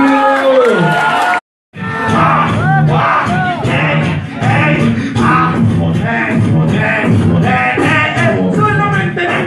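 At a freestyle rap battle in Río Gallegos, an audience erupts in loud cheering, whoops and yells after a verse, the crowd noise rising after a brief cut and staying dense throughout, mixed with shouted voices.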